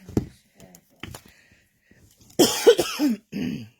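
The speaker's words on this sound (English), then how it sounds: "I beg your pardon, sorry about the coughing." A cluster of harsh, loud coughs close to the microphone, coming in quick succession after a few quieter, scattered sounds.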